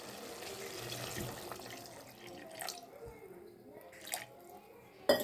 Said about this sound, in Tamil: நான் இந்த அளவுக்கு தண்ணி சேர்த்துருக்கேன்.